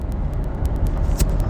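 A steady low road rumble fills a car interior, with faint rhythmic ticking over the drone and no talking.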